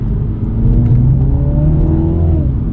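A 2023 Mini Cooper JCW engine accelerating, heard from inside as a loud, steady droning growl that climbs in pitch, with no talk over it.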